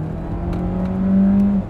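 A DS plug-in hybrid car accelerates as its rear electric motor drives the wheels, giving a steady whirring, humming drone that swells slightly in loudness partway through, with no one talking.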